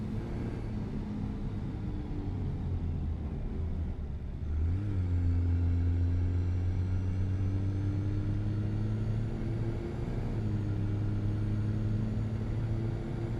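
A Toyota SUV mod in Euro Truck Simulator 2 drives with a steady engine drone that steps up in pitch as it accelerates and shifts, then settles into an even cruising hum with no voices.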